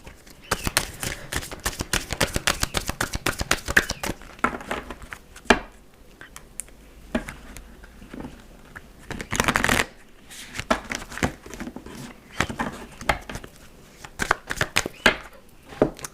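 Tarot cards are shuffled and cut by hand at close range, with repeated crisp riffling bursts separated by short pauses.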